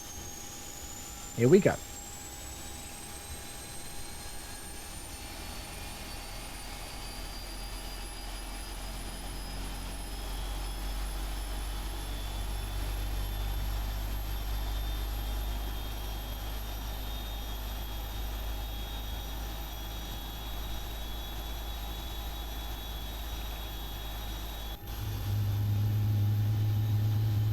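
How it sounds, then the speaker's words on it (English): Engines on a PMDG 777-300ER in the Prepar3D flight simulator spool up with a slow rising whine over a low rumble that swells in loudness. A voice speaks briefly near the start and a click sounds near the end. "we've pressurized the aircraft and we can start these engines up"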